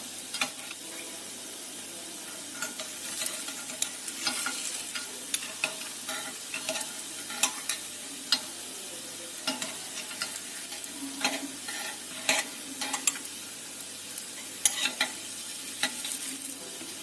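Sweet market pastry cooks in a pan to golden brown, with a steady soft sizzle and scattered light scraping and tapping from turning it, all fairly quiet and without any talk.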